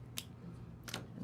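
Scissors cutting quilt fabric, two short crisp snips close by, about three quarters of a second apart, over a quiet room hum.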